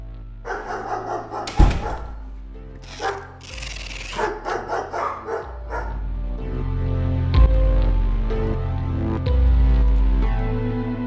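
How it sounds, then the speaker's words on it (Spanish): Several dog barks and yips ring out over a steady musical background, some sharp and close, others overlapping in quick bursts. "En ese momento Monty oyó ruidos y ladridos de perros"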